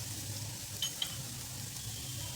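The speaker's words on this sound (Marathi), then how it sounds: "आणि हे आलं मिनिटभर छान परतून घ्यायचं" Chopped ginger sautéing in a pan for paneer momos gives a soft, steady sizzle with a couple of faint clinks of a utensil, quiet and close.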